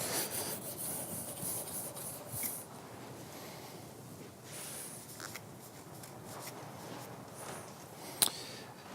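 A cabinet scraper is honed on a medium sharpening stone, producing quiet, continuous rasping strokes that rub back and forth at close range, with one brief sharper knock near the end.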